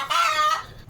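A hen in a farm shed gives a single short, close call that swells briefly and then fades, with no voices around it.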